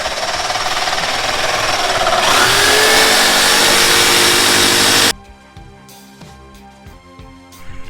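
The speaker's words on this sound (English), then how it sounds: "Using a jigsaw, we have a fine tooth blade," A jigsaw fitted with a fine-tooth blade saws through a poly cutting board, a loud, steady buzzing rasp that runs for about five seconds before cutting off abruptly, leaving a quieter workshop with faint clatter.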